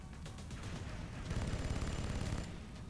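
Troops fire in the video game XCOM, a quick run of rapid gunshots with booming low rumble. The shots peak in the middle, fairly quiet overall, with no talk over them.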